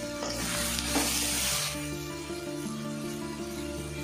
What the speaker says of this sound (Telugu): ఇలా నేను వేస్తున్నానండి పచ్చిమిరపకాయలని. ఇలా వేసి బాగా వేయించాలి.